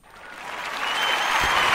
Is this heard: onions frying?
no